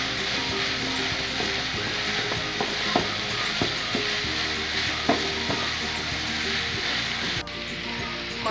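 Onions hit a hot pan for Kenyan beef samosa filling and fry with a steady, loud sizzle, broken by regular clicks and scrapes of a spoon stirring against the pan.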